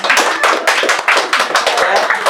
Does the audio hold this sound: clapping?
yes